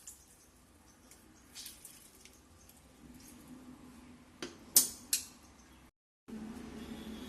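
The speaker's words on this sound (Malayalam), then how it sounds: "ഇനി വേണ്ടത് നമുക്ക് നാരങ്ങ പിഴിഞ്ഞൊഴിച്ച് കൊടുക്കാം" Half a lemon squeezed by hand into a jar for juice: a few soft squishes and wet drips, close and quiet, clustered near the middle before a short gap, over low room noise.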